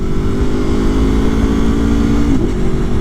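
A motorcycle rolls along a road, its engine humming loud and close in a steady, even drone, with a brief dip in pitch near the end as the rider shifts or eases off.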